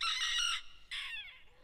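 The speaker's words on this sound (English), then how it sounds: "And there's a couple of chickens poking around." A chicken on a farm pasture lets out two close, fairly loud squawking calls, the second trailing off, with no talk.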